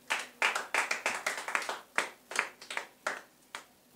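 A church congregation applauds during a service with a run of sharp hand claps at a brisk, fairly regular beat, close and crisp, briefly clustering before spacing out toward the end.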